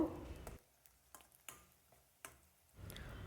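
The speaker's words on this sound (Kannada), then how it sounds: "ಈರುಳ್ಳಿ ಎಲ್ಲ ಚೆನ್ನಾಗಿ ಬ್ರೌನ್ ಕಲರ್ ಬರೋ ತನಕ ಫ್ರೈ ಮಾಡಬೇಕು" Onions frying in oil over a medium flame, a soft steady sizzle with occasional clicks of stirring, fairly quiet and close, with brief quieter gaps in the middle.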